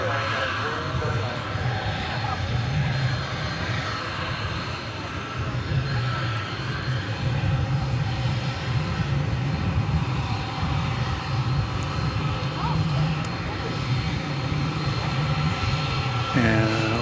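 Steady engine rumble from jet aircraft, including Airbus A300s, at DFW Airport at night, continuous and moderately loud beneath someone talking throughout.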